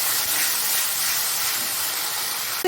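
A spice paste of ginger, garlic, cumin, coriander, dried chilli and onion sizzles after being poured into a hot pan for Bengali fish head curry. It makes a loud, steady, broadband hiss that continues without a break, with no talking.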